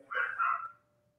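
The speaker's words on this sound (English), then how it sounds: "I got to get my dog to stop barking or I'm going to go crazy." A dog barks twice in quick succession nearby, a short loud double woof with a faint steady tone lingering afterward.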